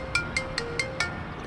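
A phone rings in an electronic tone, five short evenly spaced chirps in quick succession, clear and moderately loud over a low background hum.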